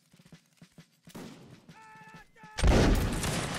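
Musket volley in a Napoleonic line battle video game: scattered faint shots at first, then a loud, dense crackling volley that rolls on, with voices in the background.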